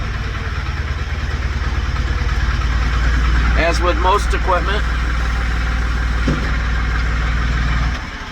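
A low, steady tractor engine idle rumbles continuously beneath someone speaking nearby, then cuts down slightly at the very end.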